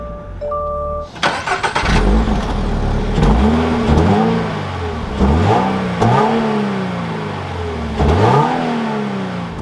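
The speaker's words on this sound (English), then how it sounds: "let's go ahead and start this up with my foot on the brake and the clutch." A 2024 Subaru BRZ Limited with a manual gearbox starts up: a short starter crank, then the engine catches with a loud flare and settles into idle, with several blips of the throttle revving it up and back down.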